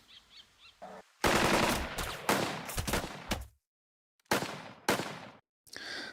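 Machine gun bursts from the turn-based war game Burden of Command. Several loud, near bursts of rapid fire, each broken by short silences, follow a few faint sounds at the start.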